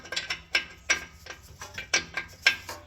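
A new upstream oxygen sensor is screwed into the exhaust of a 2015–2020 Ford F150 3.5L V6, with close, crisp ratcheting clicks repeating in an uneven rhythm, about a half-dozen in quick succession and no talking.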